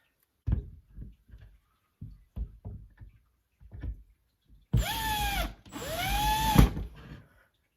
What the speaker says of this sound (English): Now I'm going to switch back to my Phillips bit because it's time to put the screws in.